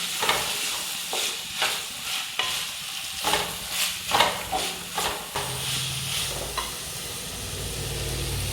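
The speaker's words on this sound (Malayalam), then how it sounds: "ആദ്യം ഉള്ളി ഇട്ടിട്ട് ഒന്ന് ഇളക്കിയതിന് ശേഷം തക്കാളി ഇട്ട് കൊടുക്കാം അല്ലേ" Chopped onions are stirred and fried in a pan for a Kerala-style crab roast, giving a close, steady sizzle with repeated scraping strokes of a spoon through the first half and then a smoother, continuous frying hiss.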